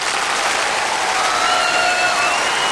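A theatre audience at an errenzhuan stage show keeps up dense, sustained clapping, loud and even from start to finish with no pause.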